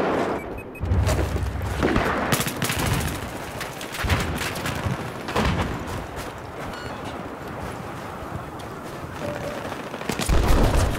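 Flashbang grenade blasts and gunfire in a team shooter match, dense overlapping shots and booming bursts continuing loudly throughout, with a deep thump near the start and end.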